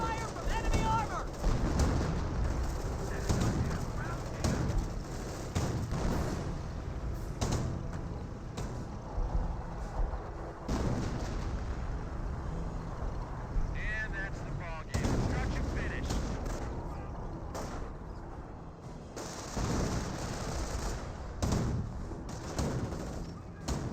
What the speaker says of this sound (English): Taking fire from enemy armor!